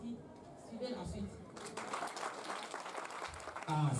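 Applause from an audience at a World Data Protection Day event, faint and brief, rising under speech and blending with crowd noise.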